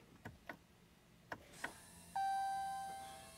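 Dashboard chime in a Dodge Ram with a clogged exhaust particulate filter, sounding as the key is turned on: a few soft clicks, then one sustained electronic tone that slowly fades, heard alone in a quiet cab.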